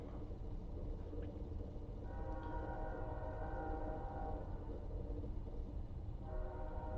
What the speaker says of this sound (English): I don't know if you can hear that train, but take it as confirmation.